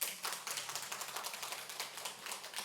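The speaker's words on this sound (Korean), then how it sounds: "박수 한번 보내주죠" Church congregation applauding a pastor during a Sunday service, soft dense clapping from many hands that sounds distant and faint, with no speech over it.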